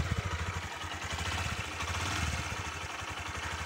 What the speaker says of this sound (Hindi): एग्जॉस्ट साउंड देख सकते हैं।